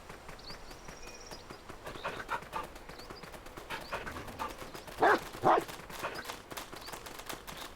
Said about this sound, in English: Listen to the little footsteps.